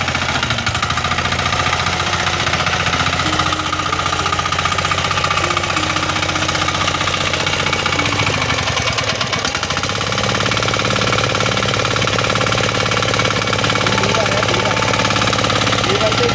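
A mini tiller engine chugs loudly and continuously nearby, a rough droning rattle with steady vibration, while someone talks over it.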